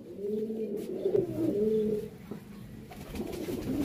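Pigeons coo steadily on a rooftop in Jammu, a close, continuous run of soft throaty calls that swells and fades over a few seconds with no talking.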